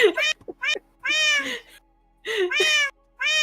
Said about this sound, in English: This cat's just following us around now.